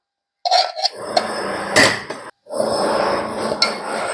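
Construction work on a house being built nearby, heard as bursts of clanking, knocking and scraping, with a short gap near the middle and sharp metallic hits.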